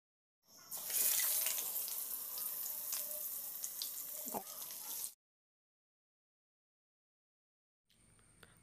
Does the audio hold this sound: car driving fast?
no